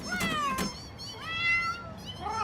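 Cats meowing in a video game factory setting, a few rising and falling meows close by, loud and clear with a pause between calls.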